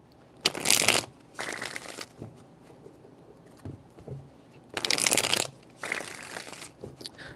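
A tarot deck is shuffled by hand in several close, crisp bursts of riffling and sliding cards, separated by short pauses, with no talking.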